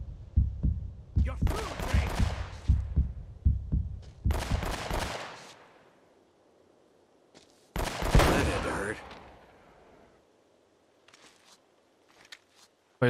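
Gunfire in the PS4 version of Uncharted: Drake's Fortune comes as several bursts of rapid, punchy shots that alternate with stretches of quieter game sound and brief talk.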